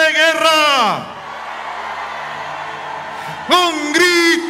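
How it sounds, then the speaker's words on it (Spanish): A women's congregation at a church retreat lets out a loud war cry: a sustained shout that swoops downward, a lull of murmuring, then another burst of high, forceful yelling. "Un grito de guerra"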